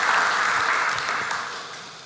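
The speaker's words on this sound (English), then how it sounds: "Let's give a round of applause" An audience applauds after a conference talk on broadcasting, a dense wash of clapping that holds steady and then gradually tapers off.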